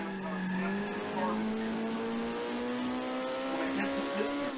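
A race car in the Grand Prix Legends racing game slides out under power, its tires letting out a sustained, wavering squeal over the continuous engine drone.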